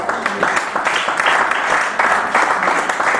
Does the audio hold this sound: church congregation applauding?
yes